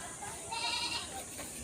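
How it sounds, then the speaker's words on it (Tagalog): A goat bleats once, a short wavering cry heard faintly at a distance on a farm in Bohol, Philippines, against a quiet hum of background noise. "Ayun ang cute kambing"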